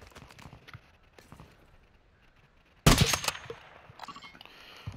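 Sniper rifle fire in a video game, one loud sharp crack roughly midway that rings out and decays, followed by smaller clicks and thumps against otherwise quiet surroundings.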